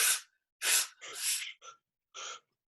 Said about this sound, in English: So you're turning your palms up and take a short breath, go.